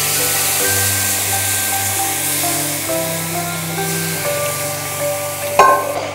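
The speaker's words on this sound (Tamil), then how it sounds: "இந்த நேரத்தில் நம்ம கரைச்சி வச்சுருக்க அந்த புளியை இது கூட ஊற்றிடலாம்." Tamarind water goes into spices frying in oil for vatha kuzhambu, and a close, steady sizzle and bubbling follow, with a sharp metal clank near the end.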